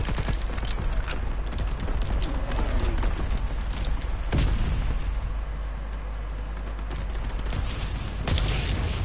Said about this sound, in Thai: โอ้ยระเบิด